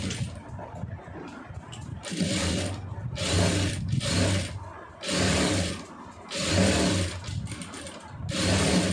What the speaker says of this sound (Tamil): இப்போ இதில் கரெக்டாக அந்த ஒட்டில் வந்து தையல் போட்டுருங்க